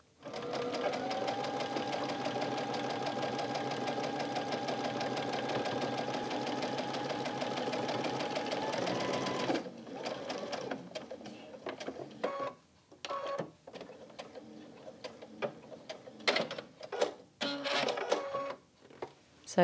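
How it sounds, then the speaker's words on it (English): Sewing machine stitching quilt fabric in a quilt-as-you-go strip and scrap quilt, a steady close whirring run for about ten seconds, then stops, followed by clicks and handling noises. "we do want to finish sewing a quarter of an inch away from where this line here ends"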